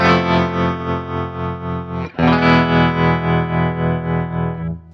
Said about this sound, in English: Beautiful, great sounding, pretty standard but good sounding tremolo.